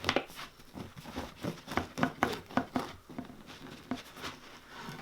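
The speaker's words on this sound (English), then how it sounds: "So what I usually do when I make a bread this size is I cut it down the middle" A knife saws down the middle of a homemade sourdough loaf, giving a quick run of crisp, crackly crust strokes at close range, fairly quiet.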